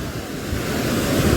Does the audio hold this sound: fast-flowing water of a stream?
yes